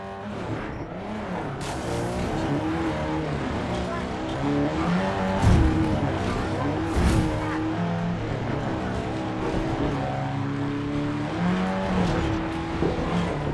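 A car roars through a video game match, its engine droning steadily with tire squeals and skids, while a player talks over the top throughout.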